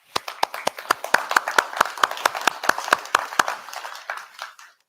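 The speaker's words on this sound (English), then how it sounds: "I think here's a good place to pause for an applause." Sparse applause for a graduating design class of 2021, distinct individual claps in a steady run from a few hands, close and fairly quiet, fading out at the end.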